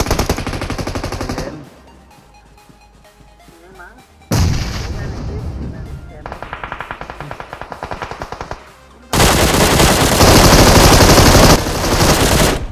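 Explosions and bursts of gunfire from the video game PUBG Mobile come loud and close, heavy blasts alternating with quieter stretches before a dense, sustained barrage at the end.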